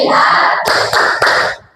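A classroom group claps a rhythmic 'tepuk fokus' routine in time with chanted words, giving a few sharp clap bursts over continuous voices, close and fairly loud.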